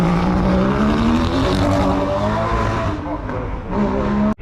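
Engine note from a BMW Mini Cooper S competition car with roll cage at the Prescott hill climb, a steady loud drone with rising pitch and a sharp cut near the end, with people talking over it.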